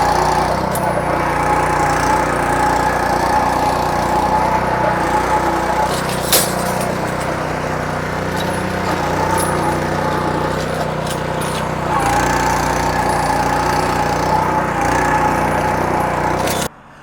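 A lawn aerator machine runs steadily on a residential lawn, its small engine droning loud and close for a long stretch before cutting off abruptly at the end.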